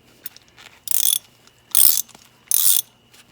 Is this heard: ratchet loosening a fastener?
yes